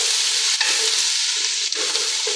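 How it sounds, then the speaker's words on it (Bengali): Onions fry in a pot with whole salt, a loud dense sizzle that runs without a break, with a couple of brief stirring scrapes and no voices. "দেখো পেঁয়াজটা অনেকটা ভাজা ভাজা হয়ে গেছে, অনেক নরম হয়ে গেছে।"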